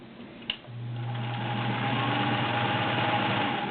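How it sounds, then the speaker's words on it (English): A Sears Kenmore Model 1802 sewing machine stitches cotton after a click starts it, settling into a smooth, steady, fairly loud motor hum that runs alone without talk. "As you can hear, it's just a super beautiful running machine."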